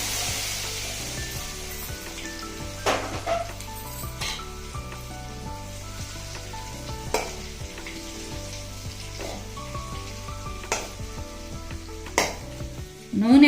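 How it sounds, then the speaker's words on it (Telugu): Hot oil tempering sizzles steadily as it is stirred into gongura and red chilli pickle, spoon and pan clinking and scraping, with a final louder scrape at the end. "ఇప్పుడు ఈ తాలింపుని ఈ పచ్చట్లో కలుపుకుందాం"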